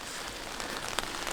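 Steady rain patters on surfaces outdoors, a soft continuous hiss with one brief sharper drop splash, no voices.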